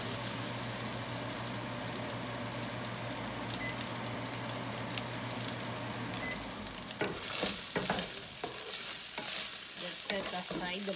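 Garlic and onion sauté in a pan for ginisang monggo with spinach. A close, steady sizzle fills the first stretch, then stirring scrapes and crackles break it up toward the end.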